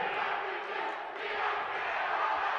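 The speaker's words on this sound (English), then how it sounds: "the crowd, bored at the score perhaps, is embarked on its own game of We've Got Spirit" A high school basketball crowd in a gym chanting the call-and-response 'We've Got Spirit', a sustained roar of many voices at a distance, fairly faint and continuous.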